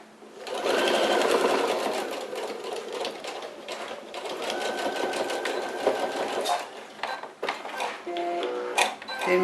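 A sewing machine stitches the last side of a fabric pouch and finishes with a backstitch, giving a loud, steady whirring run that slows and breaks into short bursts of stitches toward the end.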